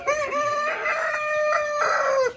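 A rooster at a poultry farm lets out one long, loud crow close by, drawn out over a couple of seconds with wavering pitch and no talk over it.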